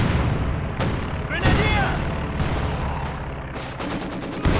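Flakpanzer fire in the video game Company of Heroes 2, rapid bursts and booms of battle under a caster's fast commentary, with a sharp rattling burst near the end.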